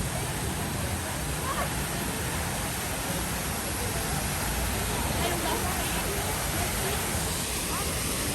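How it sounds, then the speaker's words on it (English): A waterfall at Epcot rushes with a constant broadband hiss, close and steady, with faint crowd murmur blended underneath. "It's a cool waterfall back here, though."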